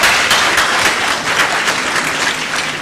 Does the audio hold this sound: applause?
yes